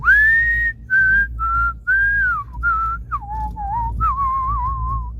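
A person whistles a tune in the Chamonix Valley, France, a clear, close melodic whistle in short phrases with brief breaths between notes, loud and alone over a low background rumble.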